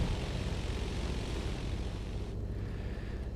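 A propeller aircraft engine idles at about 1,000 RPM in the X-Plane 11 flight simulator, giving a steady, droning hum with a faint rhythmic pulse. It stays alone and even throughout, with no one speaking.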